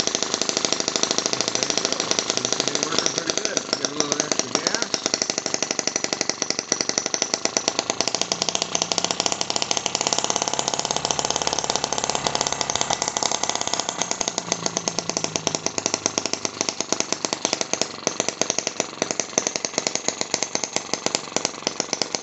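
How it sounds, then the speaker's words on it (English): Small et5 or M12 model aircraft engine running flat out and spinning a propeller, a loud, continuous high-pitched buzzing whine held steady at close range throughout, with no talking. "A fun little engine."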